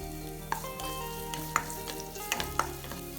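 Steady crackling sizzle of finely chopped garlic frying in hot oil, with a few sharp pops and a faint low hum underneath.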